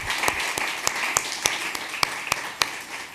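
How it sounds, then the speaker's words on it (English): Applause from an audience at a women's network conference, with sharp individual claps standing out over a steady crowd patter, fairly close and loud. "let's give them a round of applause."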